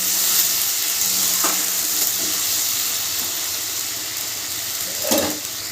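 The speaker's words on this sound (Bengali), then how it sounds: "পেঁয়াজ রসুন আর কাঁচা লঙ্কার পেস্টটা একটু ভালো করে কষে নিতে হবে" Onion, garlic and green chili paste frying in a pan for a Bengali pabda fish curry, giving a continuous loud sizzle with a couple of brief stirring scrapes, no voices.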